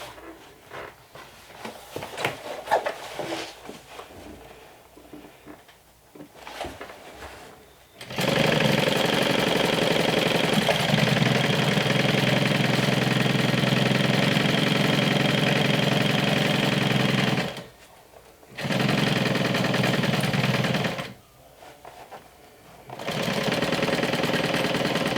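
A sewing machine runs long continuous bursts stitching a tote bag seam, loud and steady with two short pauses between runs, after some quieter handling noise at the start.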